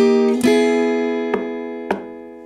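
Electric guitar plays the intro, three sharp ringing chord stabs spaced about a second apart, each left to sustain and decay, close and clear with no voices.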